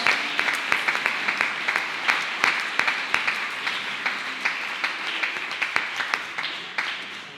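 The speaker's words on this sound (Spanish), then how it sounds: "¿Por qué no aplaudes al Señor ahí donde estás?" A church congregation claps for the Lord during a Spanish-language sermon, a sustained wash of applause with sharp individual claps standing out near the front, loud and continuous throughout.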